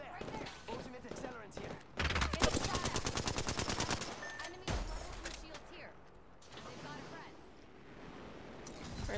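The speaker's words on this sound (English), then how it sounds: "Another squad shooting at us." Bursts of automatic gunfire from a rival squad in the Apex Legends battle royale game: a loud rapid rattling stream, then sharper single shots and quieter scattered fire, with voices talking over parts of it.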